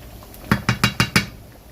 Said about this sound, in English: So I'm going to just stir it in like so